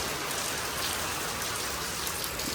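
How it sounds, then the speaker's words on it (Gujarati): Steady rain falls in a continuous, even wash of hissing drops on surfaces, moderately loud and unbroken throughout, with no voices. "હજી વરસાદ ચાલુ છે"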